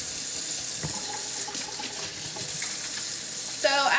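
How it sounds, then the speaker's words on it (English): Hands are washed under a running kitchen tap, a steady close splash of water lasting throughout, with a small clatter near the start and a brief squeak at the end. "So first, I'm just gonna wash my hands really quick."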